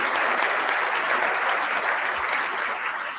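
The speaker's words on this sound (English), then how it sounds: "Give Michael a big round of applause for his work today." Sustained, dense applause from a conference audience at a commercial real estate business forum, honoring the moderator; steady and loud for the whole stretch with no voices on top.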